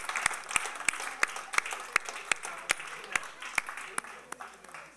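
A congregation at a church service claps together in a steady rhythm, each loud unison clap evenly spaced over a quiet room murmur.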